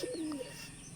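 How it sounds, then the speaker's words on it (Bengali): A domestic pigeon gives a single short, soft coo, close by but faint, with a low hum behind it. "এই কবুতরটা দেখাবো,"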